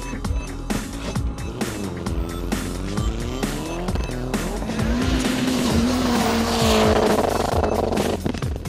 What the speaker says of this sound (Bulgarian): Димитър Илиев повози част от своите фенове с рали автомобил.